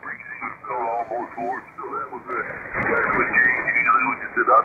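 Radio transmission from a Malahit DSP 2 SDR receiver with noise reduction switched on: band-limited, filtered-sounding voices talking continuously, with a brighter, busier stretch toward the end.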